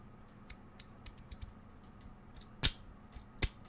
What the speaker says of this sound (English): Should also say as well, I am playing with my fidget coins